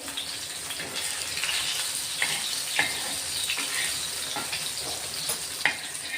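Stuffed green chillies fry in a pan with a steady close sizzle and crackle, broken by occasional light clicks of a utensil, with no voices.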